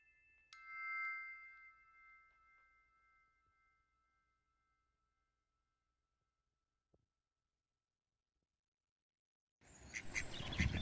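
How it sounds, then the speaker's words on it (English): A duck quacks a few times early on, then near silence, ending with a sudden burst of loud, rough noise. "Ducks, geese, swans and other water birds have made their homes in the 5 lakes"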